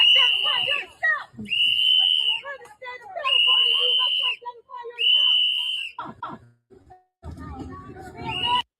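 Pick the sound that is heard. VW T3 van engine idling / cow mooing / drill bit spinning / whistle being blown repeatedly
whistle being blown repeatedly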